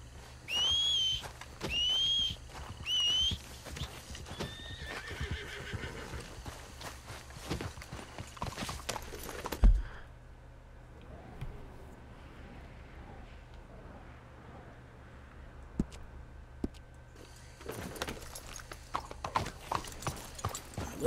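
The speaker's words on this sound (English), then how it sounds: "Where's my horse?" In Red Dead Redemption 2, a horse's hooves clip-clop steadily for about twenty seconds. A few sharp whistles and a brief whinny come early on, with an ambient outdoor bed underneath.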